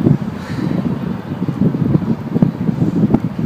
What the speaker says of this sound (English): I'm trying to do my vlog outside today, but it's a little breezy slash windy.